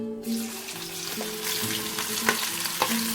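Mustard seeds dropped into hot oil crackle and sizzle in a pan, a continuous close frying hiss with scattered pops and a steady hum underneath, no talking.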